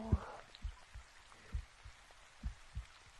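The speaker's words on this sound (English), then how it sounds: "Like it's a harmony to just hear the rain falling." Soft rain falls outdoors, heard as faint, scattered drops tapping at an uneven pace over a hushed background.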